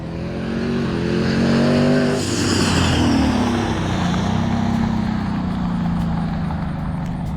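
Twin-turbo 5.0 Mustang approaching under hard throttle, a loud sustained engine roar with turbo whine rising and shifting in pitch as it nears, wastegates hissing, no talk.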